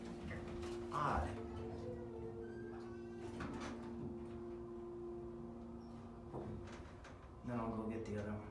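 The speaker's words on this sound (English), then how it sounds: "Close the door." A hydraulic elevator door at a medical center slides shut with soft thumps over the steady hum of the Payne elevator motor, with voices nearby.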